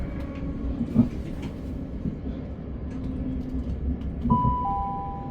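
Southern passenger train travelling on the London Bridge to Caterham line near Queens Road, Peckham, a steady low rumble of wheels on rails with a couple of knocks and a thin high whine near the end, no talking.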